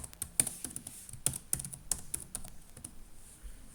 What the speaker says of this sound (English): Then you're going to punch in a password.